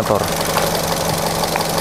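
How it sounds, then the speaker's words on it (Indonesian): A car engine runs at idle during a full vehicle inspection, a steady mid-pitched mechanical hum with light ticking, heard up close while a person talks over it. "didengerin suara mesinnya"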